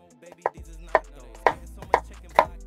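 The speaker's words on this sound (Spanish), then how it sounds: "Cortamos las dos cebollas en trocitos no muy grandes" Two onions being chopped into small pieces on a cutting board, five crisp, evenly spaced knife strikes ringing out clearly with a low hum underneath.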